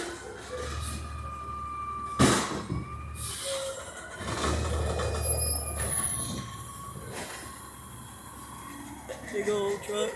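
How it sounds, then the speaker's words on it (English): A big garbage truck is reversing nearby, its steady engine rumble running under repeated high reversing beeps and sharp hisses of air brakes, while a person talks over it. "Big old truck. Almost gone."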